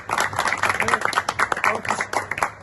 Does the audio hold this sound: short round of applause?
yes